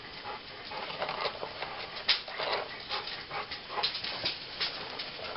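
An old dog, around eleven or twelve years old, whimpers and pants softly in short, repeated breathy bursts, close by and faint, with no talking.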